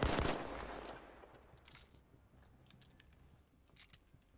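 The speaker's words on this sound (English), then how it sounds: "take a look at the partial reload animation" A partial weapon reload in a video game: a loud metallic clack at the start, then a quieter run of small mechanical clicks and rattles spread over a few seconds, with no voice.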